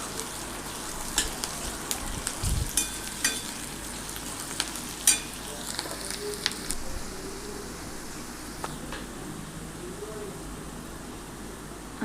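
Onion sautéing in oil until browned, a low, soft sizzle with intermittent stirring and clinks of a spoon against the pan, occasional faint background noise, no talk.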